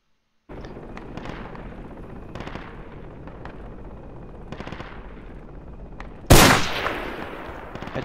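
Rapid automatic gunfire from the video game Project Reality, a sustained rattling burst of close shots followed by a sharp louder blast near the end, no voices.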